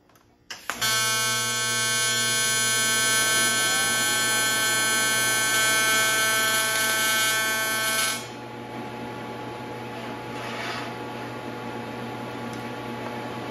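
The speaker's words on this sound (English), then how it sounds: "So we'll throw a couple tacks on there and then we'll weld it up." A welding arc buzzes loudly and steadily for about seven seconds while a part is tacked in an engine dyno setup for a Ford 427, then cuts off, leaving a lower background hum.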